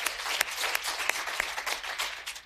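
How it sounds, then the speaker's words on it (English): Applause from a business conference audience follows an introduction: a fairly soft, moderately dense patter of clapping with a few sharper individual claps standing out, steady across the brief span. "Let's give her a round of applause."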